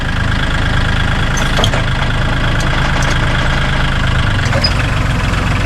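A farm tractor engine runs in first gear while ploughing a field, giving a loud, steady low rumble with a slight knocking throb that keeps going throughout.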